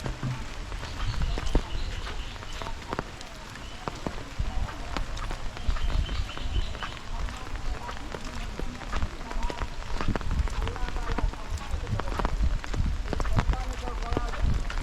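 Heavy rain falls steadily on a village paddy field where cut rice straw lies soaking. The hiss is dense and continuous, dotted with close drips and occasional thuds like footsteps.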